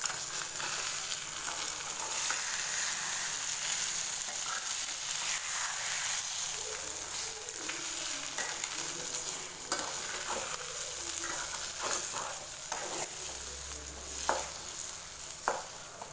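Egg fry (muttai poriyal) being stirred in a pan over low flame: a steady soft sizzle with scraping spatula strokes and a few sharper clinks toward the end, close and alone.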